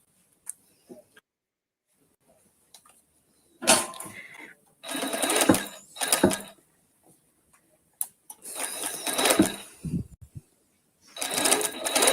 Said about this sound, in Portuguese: Eu vou fazer a costura primeiro atrás, tá?